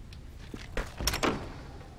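A door closing in the H1Z1 zombie survival video game, a few quick thuds and a latch click in close succession, fairly soft against quiet background.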